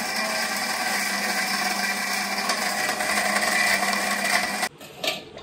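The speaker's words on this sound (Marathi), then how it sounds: "नांग्या आहेत ना त्यात बघा आईने मिक्सरमध्ये टाकल्या" A mixer grinder whirs loudly as it grinds black mud crab claws, a steady high motor drone with rattling contents that stops abruptly near the end, followed by a brief clatter.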